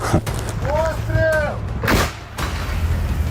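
Heavy booms of marine artillery fire sound in the distance at a Ukrainian firing position, with a rumbling blast and echoing report amid outdoor noise and brief voices.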